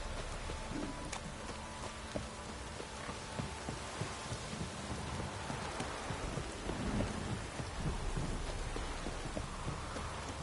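Steady heavy rain patters continuously in a video game while low thunder rumbles underneath, swelling slightly louder toward the end.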